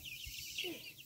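Chickens on a farm cluck briefly and faintly near a chicken tractor, giving a couple of soft calls over quiet background noise.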